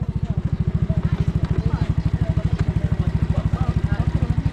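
A motorcycle engine runs steadily after a push start, a close, loud, evenly pulsing thump at a fast idle, with people talking lightly over it.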